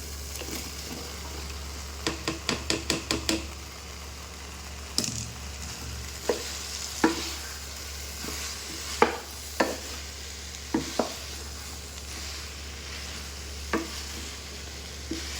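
Cauliflower stirred and dry-fried in a pan for a Punjabi-style sabzi: a soft steady sizzle underneath, with a quick run of rapid spatula scrapes near the start and scattered single clanks and scrapes later.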